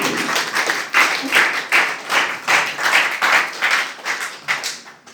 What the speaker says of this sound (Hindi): थैंक यू सर के नाम में जोरदार तालियां